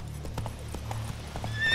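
Roach the horse from The Witcher 3 video game, a short run of rhythmic hoof clip-clops at a gallop, moderately close, ending in a rising whinny, with no talk.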